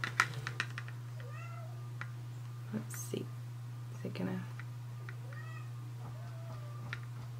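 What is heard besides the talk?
cat meowing in the background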